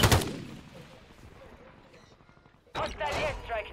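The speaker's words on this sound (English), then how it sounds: "That bitch is hitting hard with that sniper, though." Sniper rifle shots in a Call of Duty match, a sharp loud blast at the start decaying away, then another burst of heavy gunfire near the end, with players talking over the action.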